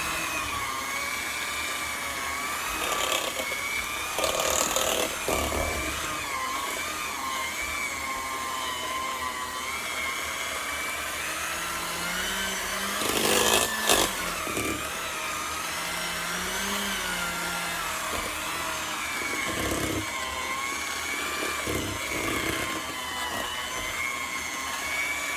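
A cheesecake batter of mixed ingredients is whirred by an electric mixer in a steady, loud, continuous drone lasting throughout, with slight changes in pitch and a few louder surges as the beaters work, and no talking.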